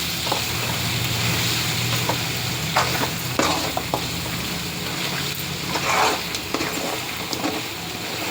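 Coriander powder masala frying in hot oil for a green chilli chicken gravy, a steady close sizzle with scraping stirs breaking through at intervals, no talking.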